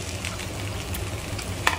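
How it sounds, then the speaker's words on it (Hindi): Potatoes (aloo) frying in a pan until crisp, a steady soft sizzle of hot oil with one brief sharper crackle near the end, moderately quiet. "अभी इसको थोड़ा सा फ्राई करके देखते हैं कैसा बना।"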